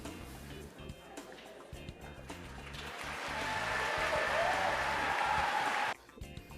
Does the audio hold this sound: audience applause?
yes